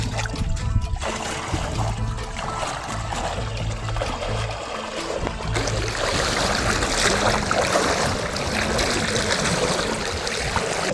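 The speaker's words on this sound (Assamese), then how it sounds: "কি পানীৰ শব্দ আহি আছে এইফালে" A river flowing where the path crosses it, a steady close rush of water that fills the whole stretch without pause.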